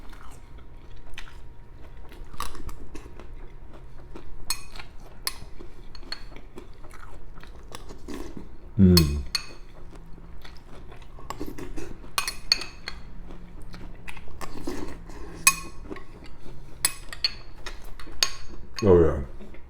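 Spoonfuls of Kellogg's or Post cereal eaten from a bowl, with crunchy chewing and bites plus occasional spoon clinks against the dish, close and intimate over a quiet room.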